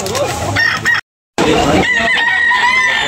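A rooster crows loudly amid a busy rooster-sale market din of chatter and clucking in Batangas, the call cut briefly by a gap of silence before other birds carry on.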